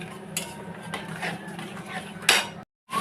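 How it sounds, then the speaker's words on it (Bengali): Spices are stir-fried in a pan, with repeated metal spatula scrapes and clinks over a low, steady background and a sharper clatter near the end, with no talking. "মশলাটা ভালো করে কষে নেব।"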